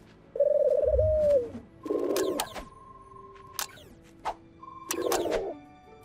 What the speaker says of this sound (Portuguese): Hora de libertar esses pombos.